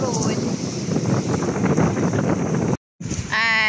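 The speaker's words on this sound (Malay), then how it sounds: "Angin kuat. Angin kuat." Strong sea wind buffets the microphone in a continuous loud roar by the shore where families cast nets for shrimp, broken by a brief dropout before the gusting resumes.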